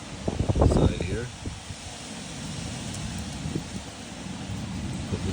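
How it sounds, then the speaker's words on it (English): Loud wind blows steadily outdoors during a sprinkler pipe repair, a continuous broadband rush with a louder gusty burst near the start, and a person speaks over it early on. "I don't know if you can hear the wind, but this is loud."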